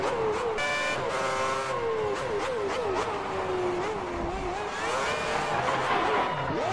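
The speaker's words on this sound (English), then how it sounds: "Get on the brakes quick enough to arrest the spin." Sauber race car spinning in a racing video game set at Bahrain 2010, heard as a loud, sustained engine whine with wavering, squealing tire pitch throughout, no talking.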